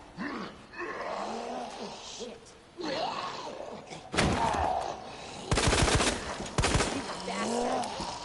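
Colt revolver shots in Resident Evil 2 Remake crack out as sharp, loud single blasts in a sparse sequence, separated by quieter stretches of moving about and grunting.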